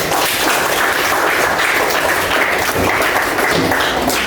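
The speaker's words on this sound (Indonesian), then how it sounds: "tepuk tangan semuanya" Loud, close audience applause at the end of a school academic coaching and supervision session, thick and continuous clapping from many people that fills the whole stretch with no talk over it.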